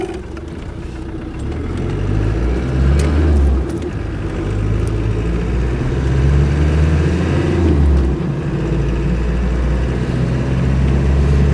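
Land Rover 110 with a 200Tdi diesel engine running steadily while driving, a loud continuous low rumble that rises and falls slightly with throttle, no voices.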